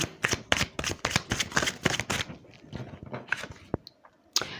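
Tarot cards are handled and shuffled close up, a rapid flurry of crisp flicking and riffling clicks that thins into scattered slaps and taps, with no talk.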